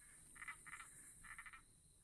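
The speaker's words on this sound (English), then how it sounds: "Other species, such as this tree frog, use bromeliad plants to reproduce." A tree frog calls in Brazil's Atlantic Forest, giving a few quick bursts of bright, rasping croaks in a loose rhythm over steady high insect hum, faint and distant.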